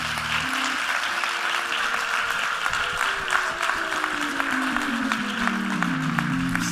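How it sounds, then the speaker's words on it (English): A church congregation at a Sunday service applauds in a steady, sustained burst, with sliding low organ-like tones sounding under the clapping. "Y'all clap for them."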